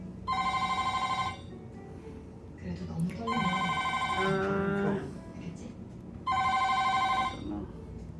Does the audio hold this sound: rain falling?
no